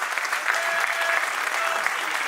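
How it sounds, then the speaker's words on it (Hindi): A crowd at the Maharashtra Chamber centenary celebration and headquarters inauguration breaks into dense, sustained applause to welcome Home Minister Amit Shah. The clapping is steady and fairly close for about two seconds. "एक बार जोरदार तालियों से स्वागत कीजिएगा हमारे गृह मंत्री आदरणीय श्री अमित शाह जी का।"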